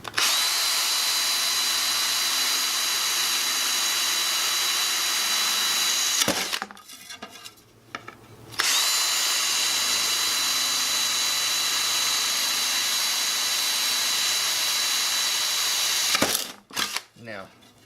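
A power drill boring a quarter-inch hole through wood for a homemade bird feeder, a loud steady whine held for about six seconds, a short pause, then a second long run of drilling.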